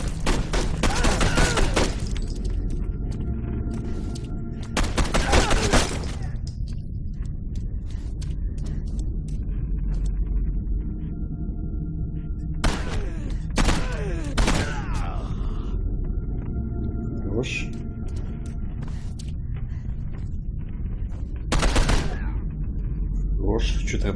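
Gunfire rings out in the video game Condemned 2 Bloodshot, with bursts of shots early, around five seconds and mid-clip over a low rumbling background, while someone talks throughout.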